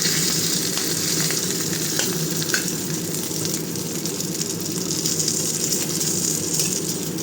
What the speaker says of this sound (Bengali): ইলিশ মাছের মাথাটা বেশ লাল লাল করে ভাজা হয়ে গেছে।